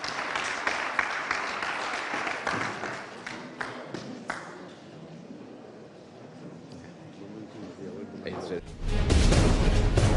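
Audience members at a high-level African governance policy dialogue organised by UNDP clap for the conference panelists, scattered claps mixing with a murmur of voices and then swelling into a loud burst of applause at the end.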